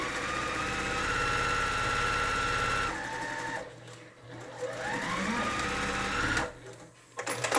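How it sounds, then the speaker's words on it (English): A sewing machine hems the curved edge of a fabric face mask, its rapid steady stitching whir loud and close, pausing briefly before running again. "I'm going to hem around the curved edge first of both sets"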